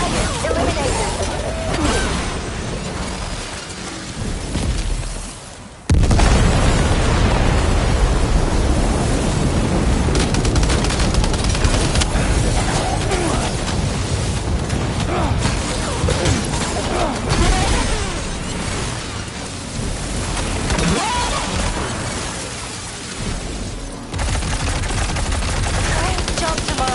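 Weapons fire at a target in the video game Death Stranding 2: a loud, dense barrage breaks out after a brief lull and carries on almost without pause, with a spoken voice briefly under the din.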